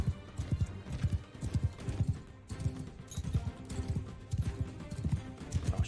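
A horse gallops in Mount & Blade II: Bannerlord, its loud, rapid hoofbeats pounding in a steady repeating rhythm for the whole stretch, with battle ambience behind.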